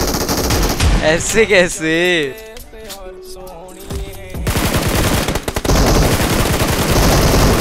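In PUBG Mobile, a firefight brings bursts of automatic gunfire and single shots that come loud and close. Someone speaks briefly in between, and the shooting grows dense toward the end.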